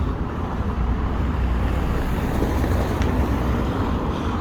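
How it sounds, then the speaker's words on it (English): Steady roar of road traffic passing beside Jaffa Gate in Jerusalem's old city walls, a continuous, fairly loud wash of engine and tire noise with wind, and no voices. "A little bit noisy because there's a road here."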